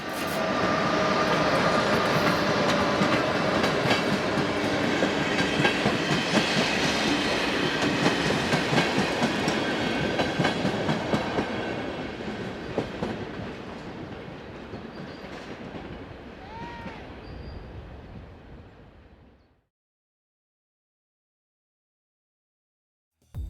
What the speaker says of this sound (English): 163063 departs south with an all-station stopping service